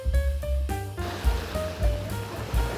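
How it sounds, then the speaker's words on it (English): Waves rolling onto the beach at Grand Beach on Lake Winnipeg at night, a low rumbling surge that swells and breaks at intervals of roughly a second, with a few faint steady tones over the water noise. "I've got waves crashing from Lake Winnipeg"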